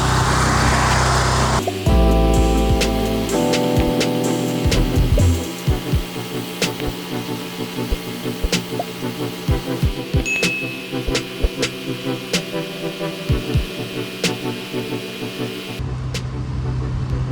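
Pressure washer rinsing a bush beside a house, its motor droning steadily and loud nearby with irregular clicks and spray hits throughout.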